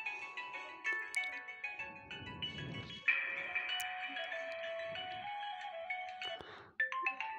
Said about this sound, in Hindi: यहाँ पे बहुत सारे रिंगटोन होंगे, बहुत अच्छे हैं।